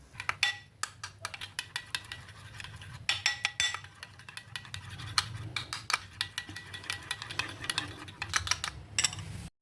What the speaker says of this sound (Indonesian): Lalu diaduk-aduk supaya tercampur merata.